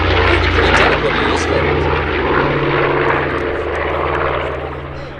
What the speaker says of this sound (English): It's a bomber, for goodness sake. Look at it, how it's lifting around the sky.